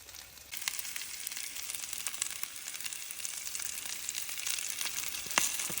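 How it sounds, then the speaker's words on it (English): Hash browns frying in bacon grease on a Blackstone griddle over medium heat, giving a steady, close sizzle with crackling pops throughout and a sharper spatter near the end. "They're just cooking in bacon grease right now"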